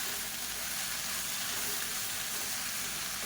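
Mint and coriander leaves sautéing in a hot pan for a Tamil mint chutney give off a steady, dense sizzle and hiss, close and even throughout, with no voices.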